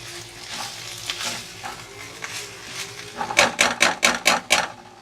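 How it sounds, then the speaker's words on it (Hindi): Minced chicken keema sizzles in a pan, a steady crackling fry that gives way to a run of about six sharp, evenly spaced spatula scrapes near the end, close and fairly loud with no one talking. "अब ये कीमा जो है फ्राई हो चुका है"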